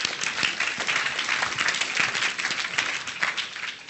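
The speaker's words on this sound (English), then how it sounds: "let's give yourselves a round of applause" Audience members at a talk clap for themselves, a moderate, steady patter of applause from a modest group that holds evenly before tapering slightly at the end.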